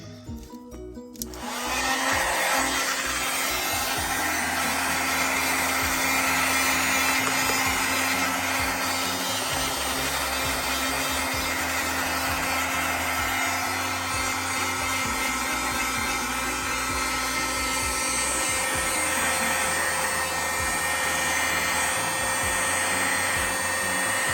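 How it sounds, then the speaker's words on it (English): A heat gun blasts steadily onto alcohol inks on a tumbler, a loud continuous whooshing roar that starts after a brief quiet moment and holds without pause, close to the mic. "I am going to take my heat gun and try to move around some of the alcohol inks."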